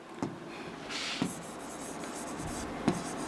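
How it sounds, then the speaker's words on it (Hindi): Marker or chalk writing on a board during a Hindi biology lesson, steady scratchy strokes with a few sharper taps, close and alone with no talk. "मैं लिख देती हूँ क्लियरली बढ़िया से"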